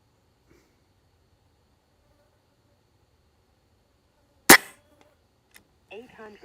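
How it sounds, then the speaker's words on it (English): A single sharp airgun shot cracks out at an airgun expo range after a quiet stretch, followed by faint clicks and someone talking briefly afterward. "It's really an easy to shoot gun."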